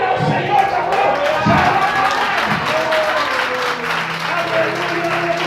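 A church congregation applauds during a Portuguese-language sermon, steady dense clapping running throughout with a preacher's voice and crowd sounds mixed over it.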